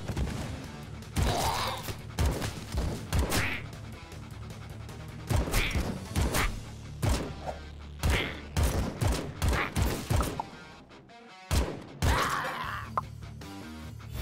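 Rapid bursts of gunfire and crashing impacts from the action roguelike video game AK-XOLOTL come in repeated volleys, loud and close, with a voice speaking at times.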